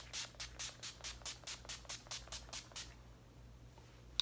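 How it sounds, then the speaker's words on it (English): About a dozen quick, soft hissing bursts of makeup setting spray mist onto a face in a steady rhythm, then the sound fades to near silence. "And then you just spray it all over your face"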